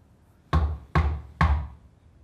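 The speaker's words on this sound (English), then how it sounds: "Did you hear that? Somebody's at the door." Three loud, separate knocks on a door, evenly spaced about half a second apart, close and sharp with short decays, with no talking.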